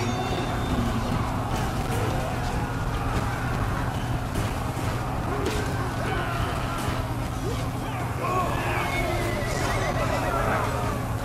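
Horses neigh and whinny amid the clamour of a large battle in Total War: Three Kingdoms, repeated calls rising over a steady roar of fighting and wind-like noise throughout.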